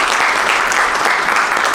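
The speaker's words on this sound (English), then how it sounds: "again, a big applause for Prof" Loud, close applause from a convention audience thanking a professor after a panel, a thick continuous patter of many hands throughout.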